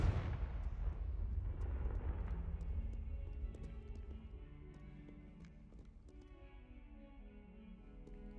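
A Confringo blasting spell detonates in Hogwarts Legacy, a heavy rumbling boom at the start that rolls off into a long, fading low roar beneath quieter game ambience.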